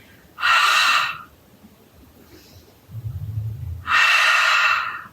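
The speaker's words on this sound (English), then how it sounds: "take in a nice smooth inhale and exhale" Slow, deep guided breathing: two long, airy breaths a few seconds apart, each lasting about a second, with a faint low murmur in the quiet gap between them.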